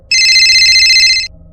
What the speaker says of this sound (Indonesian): Terus malam itu handphone gue berbunyi.